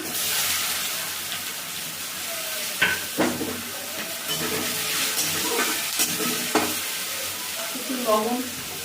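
Chopped onion frying with sugar in oil for a home-style chicken and potato jhol, a close, steady sizzle broken by clattering stirs and occasional sharper spatters, no talking.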